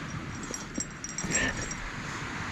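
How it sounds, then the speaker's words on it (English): A small puppy at a beach cafe in Koh Chang, Thailand, gives soft whimpers and yips close by, with faint chatter and background noise around it. "And a little puppy doggy."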